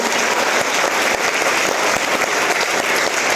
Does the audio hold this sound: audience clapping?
yes